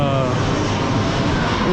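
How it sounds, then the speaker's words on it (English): An airplane passes near an airport with a steady engine roar. People talk over it throughout. "there goes the plane."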